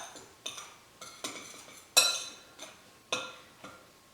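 A utensil clinks against a bowl while mixing almond flour with garlic powder, basil, oregano and cayenne: about eight sharp, close taps in an uneven rhythm, each ringing briefly, with no talking.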